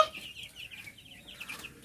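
Chickens cluck and chirp in quick, soft bursts nearby, with no talking.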